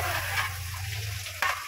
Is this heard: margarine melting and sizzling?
yes